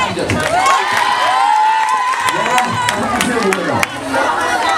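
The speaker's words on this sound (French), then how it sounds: "Donc applaudissez" Schoolchildren in a classroom clap and cheer together, a dense, sustained burst of applause mixed with excited voices and shouts throughout, close and loud.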